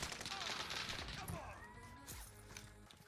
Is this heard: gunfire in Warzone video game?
yes